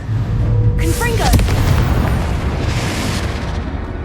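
Confringo blasting spell in the video game Hogwarts Legacy, a deep booming explosion with a crackling burst that rumbles and fades over a few seconds, heard after a short spoken shout.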